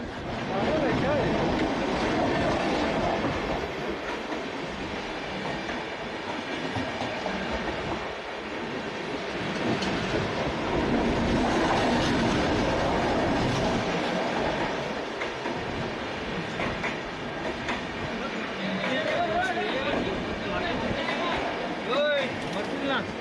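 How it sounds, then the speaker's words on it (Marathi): A mail express train passes through Vasai railway station with a loud, continuous rolling rumble and rattling carriages that last throughout, and people's voices are audible amid the noise. "ओए ट्रेन आ गई।"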